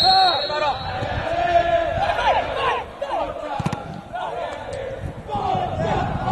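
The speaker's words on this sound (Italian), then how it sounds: "Si sentono i tifosi dell'Acri." Acri football supporters at an amateur match in San Lucido cheer and chant from the stands, a steady distant crowd roar with rising shouts under continuous commentary.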